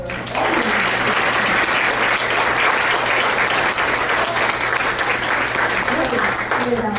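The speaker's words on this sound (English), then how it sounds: "I want us to give a round of applause for Roberta Melton." Guests at a women's awards dinner and lecture give a sustained, even round of applause that stays loud and dense throughout, with a low steady hum underneath.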